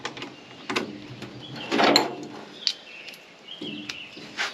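A hand ratchet works a bolt loose on an old generator near the carburetor, giving short clicking bursts at irregular intervals with a louder rasping stretch in the middle, close and moderately loud.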